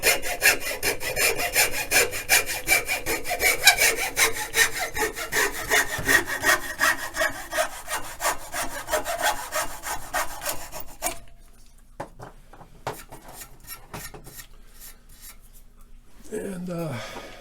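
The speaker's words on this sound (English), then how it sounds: "I like to use this saw because it makes a lot smoother cuts. So I'm just going to cut this off." A fine-toothed hand saw cuts through a pine log in steady, rapid back-and-forth strokes, close and loud for about eleven seconds, followed by a few slower, scattered strokes as the cut finishes.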